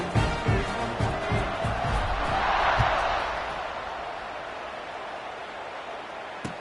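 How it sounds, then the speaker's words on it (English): A football stadium crowd roars after a touchdown drive, a broad wash of cheering that swells in the middle and then settles into a steady, sustained murmur, with a few thumps early on. "this crowd is feeling themselves after that last drive"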